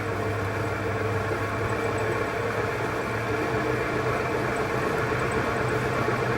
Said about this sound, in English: I'm going to start turning it maybe at 500 RPM.